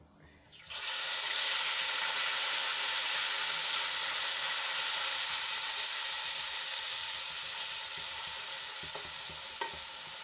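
Two large grated onions hitting hot oil with cumin and a pinch of hing, bursting into a loud, continuous sizzle with occasional stirring clicks, fading slightly over time.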